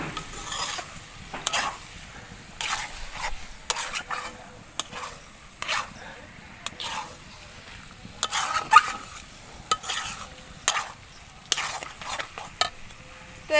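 Spatula stirring chola paneer masala with grated paneer in a pan, giving irregular scraping and clinking strokes over a soft sizzle, close up, with no one talking.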